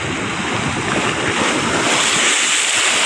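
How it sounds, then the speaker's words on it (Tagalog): Heavy surf on Manila Bay crashes and churns continuously against a dike, loud and close, with strong wind buffeting the microphone throughout. "Kasi tingnan nyo naman po yung alon. Tapos humahampas po dyan."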